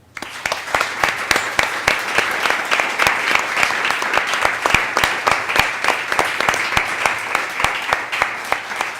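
A colloquium audience applauds the guest speaker, Dr. Cristian, with a sustained round of clapping from a modest crowd in a hall. Individual claps stand out clearly over the steady patter for the whole stretch.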